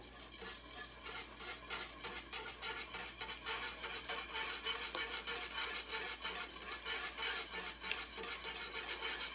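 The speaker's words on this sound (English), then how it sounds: "So then we're going to whisk it in." A whisk beats a white wine cream sauce in a pan, giving quick, rhythmic metal strokes and light scraping that carry on steadily and close up, with no one talking.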